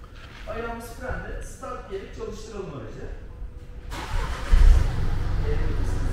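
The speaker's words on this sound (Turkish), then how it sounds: "Start diyerek çalıştıralım aracı." A 2021 BMW 116d diesel hatchback starts up: a brief crank, then a steady low diesel idle takes over, heard close after a stretch of speech.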